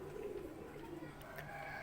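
Pigeons coo softly and steadily in a quiet loft, their low murmuring calls rolling along faintly and alone.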